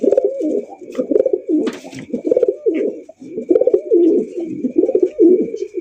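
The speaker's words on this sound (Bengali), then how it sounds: "সবজি রেসার কবুতর" Racer pigeons cooing in repeated throaty rounds, close and loud, with faint clatter and background noise between calls.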